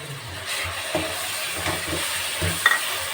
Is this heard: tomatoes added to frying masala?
yes